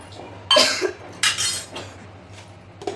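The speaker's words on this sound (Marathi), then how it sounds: "हे मिक्सरचं भांडं जे आहे ते धुवून टाकणार आहोत" A mixer grinder jar is rinsed out with water in a home kitchen. Two or three short, close splashing and clattering bursts are separated by quieter gaps.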